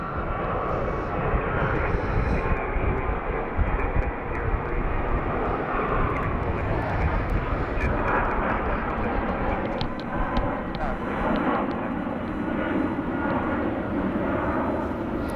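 A Jetstar airliner takes off at Sydney Airport, its engines a broad, steady roar that holds loud and distant-to-near throughout with no talk over it.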